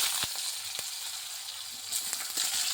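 Potato pieces frying in hot oil with spices and small split chillies, a steady soft sizzle broken by a few sharp clicks and scrapes from stirring, close and quiet with no talk.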